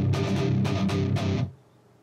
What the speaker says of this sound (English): And then comes something like a galloping picking